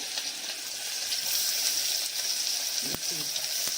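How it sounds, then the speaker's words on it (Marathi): Onion frying in oil with mustard seeds, cumin and asafoetida, a continuous bright sizzle close up with a brief clink near the end. "आता आपण कांदा टाकत आहोत कांदा थोडा नरम होऊन द्यायचा आहे"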